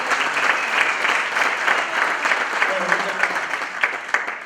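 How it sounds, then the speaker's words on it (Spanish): An audience claps steadily through the whole stretch at a Buenos Aires province labour congress on culture and work, dense and continuous with a few sharper individual claps standing out near the end. "un fuerte aplauso para eso"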